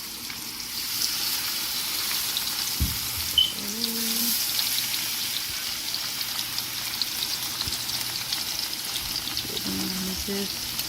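Salmon fillets frying in a pan, a steady close crackling sizzle running throughout, with a couple of faint clinks and light handling noises over it.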